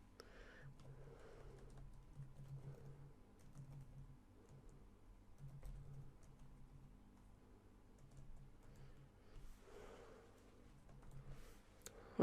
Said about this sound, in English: So first of all, you type in your campaign name.